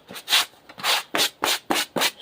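A sanding block rubs over a carved N scale model brick wall in six rhythmic back-and-forth strokes, each a close, crisp scraping swish with short pauses between.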